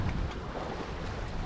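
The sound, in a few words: wind at sea on sailboat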